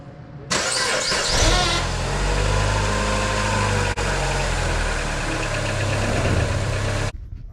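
A Mini Cooper engine cranks and catches, then settles into a steady, close idle that runs without a break for several seconds before cutting off. Nobody speaks.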